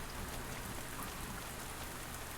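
Steady rain pattering on surfaces in the farming video game Pumpkin Days, a dense continuous hiss with no voices, even and constant throughout.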